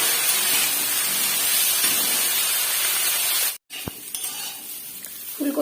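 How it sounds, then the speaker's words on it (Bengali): Cauliflower and potato fry in a covered pan with a steady hiss and sizzle, then a brief gap and a clink as the pan is handled, followed by softer frying. "আর দেখো এই যে ফুলকপিটা তো সুন্দর করে ঢেকে ঢেকে ভেজে নিচ্ছি।"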